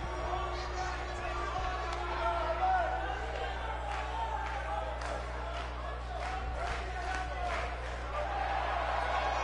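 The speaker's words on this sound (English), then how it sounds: "Crowd feeling this one." Steady crowd noise from a live wrestling show audience, a continuous roar with scattered cheers and shouts swelling throughout, loud and close under occasional commentary.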